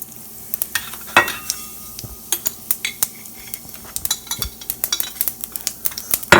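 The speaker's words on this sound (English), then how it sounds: "So now that the oil is heated up, let's add some mustard seeds" Mustard seeds fry and pop in hot sesame oil for South Indian sambar tempering, giving a steady sizzle with many sharp, scattered crackles and a few stirring clinks of a spoon against the pan, with no voices.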